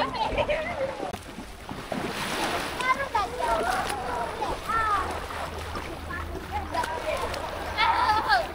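Children splash while bathing in water at a village campsite, a steady wash of splashing and rippling with young voices calling out over it.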